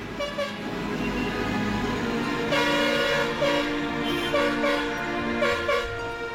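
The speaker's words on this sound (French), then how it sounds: "c'est dans les rues de Surkhet que Shibu doit jouer du klaxon." A truck horn blares in the streets of Surkhet, Nepal, a loud sustained tonal honk that begins low, then rises and holds with repeated pulses over engine and street noise.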